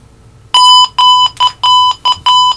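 An electronic alarm sounds six loud, close, high-pitched beeps in quick bursts of uneven length, each with a clear steady tone and short gaps between them.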